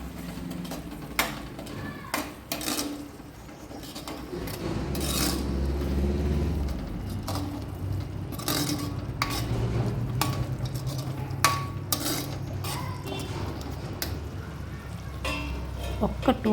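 Fried paneer is mixed into tomato curry in a pan, giving a steady, fairly quiet scraping and stirring with occasional sharp knocks of the spoon against the pan.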